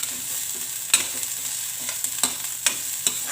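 Masala with chopped bell pepper roasting in a pan, a continuous hissing sizzle punctuated by several sharp clacks of a spoon stirring against the pan, close with no talk.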